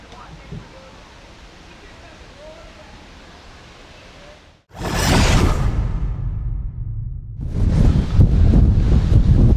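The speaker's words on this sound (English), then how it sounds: "Gosh, this is windy." Strong gusts buffet the microphone in a loud, roaring rush in the Mesopotamia Valley in the Caribbean, with quieter talk beforehand and a brief lull between blasts.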